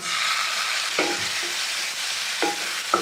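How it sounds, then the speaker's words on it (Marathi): Onion and tomato fry in a pan for shev bhaji, giving off a steady hiss. A spatula scrapes and stirs through it three times. "आता याच्यातच आपण हे टोमॅटो टाकायचं आणि भाजून घ्यायचं"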